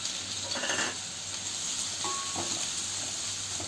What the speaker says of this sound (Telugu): ఆనియన్ని ట్రాన్స్పరెంట్ అయ్యే వరకు ఫ్రై చేసుకుందాం